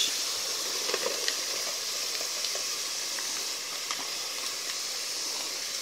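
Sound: tomato sauce sizzling as added to pan with ground meat

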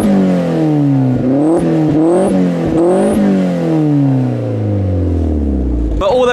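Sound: car engine revving

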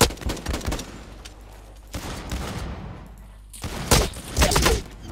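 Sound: gunfire in the video game Blacklight Retribution

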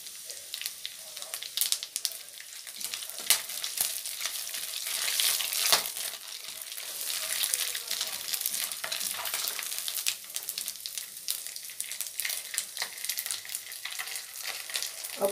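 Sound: bay leaf, dried chili and garam masala frying in hot oil

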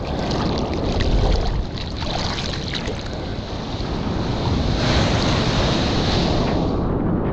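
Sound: heavy ocean wave breaking

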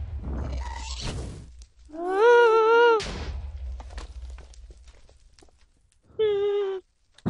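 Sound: ghast noise in the Nether, from video game Minecraft

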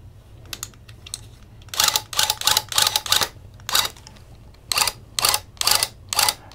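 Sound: loop pile tufting gun running

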